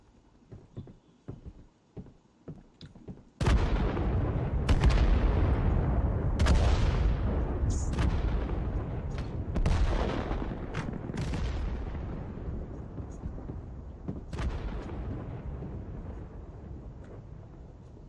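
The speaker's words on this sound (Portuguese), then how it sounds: "Pode ver, tem até o bombardeio, igual o PUBG mesmo." Bombardment in the mobile battle royale game Knives Out: after a few light taps, a loud sustained rumble of explosions starts, with repeated blasts rolling on and slowly fading, no voices.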